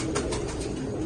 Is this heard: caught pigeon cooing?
yes